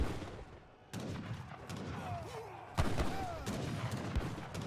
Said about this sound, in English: the monitor is dodging the mortar shots